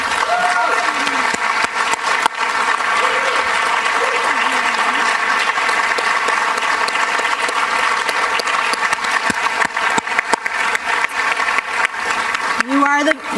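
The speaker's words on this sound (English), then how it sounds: "Could all the students please stand so we can give you a round of applause?" An evening audience at a Chamber of Commerce education awards event claps in sustained, dense applause for the students, and a few voices cheer faintly within it.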